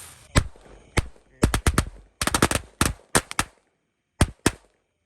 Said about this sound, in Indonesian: Selanjutnya kita nyalakan mercon New Gangsing Tor, 1 pak sekaligus kita nyalakan.